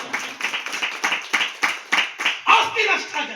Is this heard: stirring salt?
no